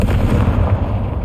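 A Confringo fire-blast spell goes off in Hogwarts Legacy, heard as one loud, dense explosive rumble that fills the whole clip with heavy low-end energy and no talking.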